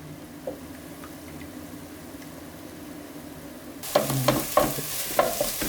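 Beaten egg sizzles gently in a pan for cauliflower (gobi) fried rice, then a spoon starts stirring and scraping, bringing louder bursts of frying and scraping near the end.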